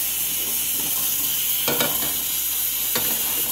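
Seasoned chicken sautés in a pan with a drizzle of olive oil, giving a loud, steady sizzle and hiss. Two brief utensil scrapes or clanks against the pan cut through it, and nobody talks.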